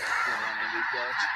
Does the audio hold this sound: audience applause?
no